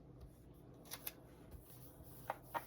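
Paper in a journal is trimmed with a few quiet, crisp snips and rustles spaced irregularly, close and faint in an otherwise quiet room.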